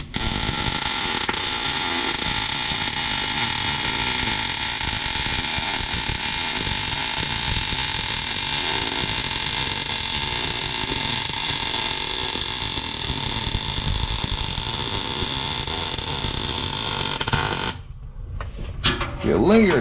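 Short-circuit MIG welding of a steel I-beam to a corner piece produces a loud, steady crackling buzz for most of the clip, then stops abruptly near the end, leaving quieter room sound.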